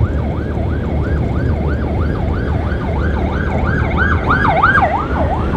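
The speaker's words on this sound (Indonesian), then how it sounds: "Aduh, ada ambulan sih." An ambulance siren wails in a fast, rising-and-falling cycle, fairly close and growing louder, over low traffic rumble with no talk.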